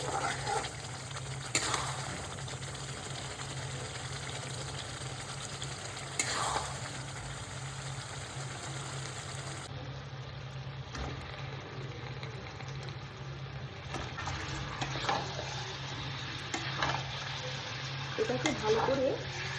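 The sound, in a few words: frying and stirring mutton masala with onion, ginger, tomato, garlic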